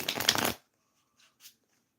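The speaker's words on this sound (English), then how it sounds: "let's shuffle some cards and ask what is coming up here for you" Tarot cards are riffled and shuffled in one brisk, close burst of rustling, followed by near silence and a couple of faint soft card taps.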